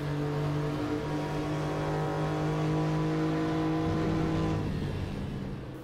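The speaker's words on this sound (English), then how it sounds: "the 964 Cup car is no different. It sounds reassuringly Porsche-like" Porsche 964 Carrera Cup race car in the RaceRoom sim racing game, its flat-six engine howling loud and sustained at high revs before dropping off sharply near the end, with no talking.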